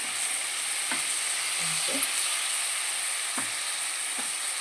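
Brinjal cooking in a pan makes a steady, close hiss of frying oil, with a few soft scrapes and light taps as the remaining masala is added.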